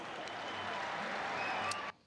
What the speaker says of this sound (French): Applaudissez pour les Russes